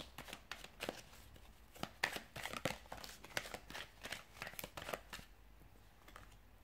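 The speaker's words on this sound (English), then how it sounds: "So we'll give the cards a shuffle and see what they're predicting for you guys." Tarot cards being shuffled by hand, a run of quick crisp riffling and slapping bursts in an uneven rhythm, close but fairly quiet, with no voices.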